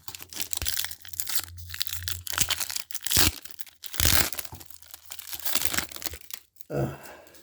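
Someone tears open a 1995 Topps Series 1 baseball card pack close up, making a steady stream of crinkling foil and ripping paper with several sharp louder tears.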